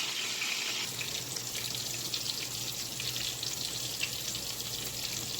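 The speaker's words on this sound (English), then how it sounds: "I'm done finished frying the rest of the meat" Steady, fairly quiet sizzling of meat frying in a pan, a continuous hiss with faint crackles and no talking.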